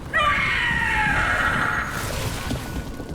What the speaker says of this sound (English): Scream all you want! It's no match for steel!